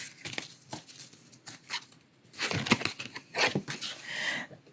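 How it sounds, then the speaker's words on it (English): A deck of oracle cards is shuffled by hand in quick, papery bursts of riffling and flicking, with short pauses between and a denser flurry toward the end, close and fairly soft. "I started shuffling automatically and it just kind of flew."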